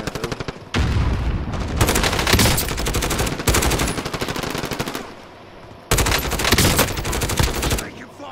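Loud, close bursts of rapid gunfire from Call of Duty: Modern Warfare, heavy repeated volleys with short pauses between them and a brief voice in the mix.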